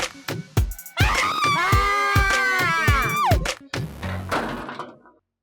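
A girl lets out a loud, sustained scream of about two seconds in a domestic drama scene, preceded and followed by sharp thuds and knocks, with a shorter cry trailing off near the end.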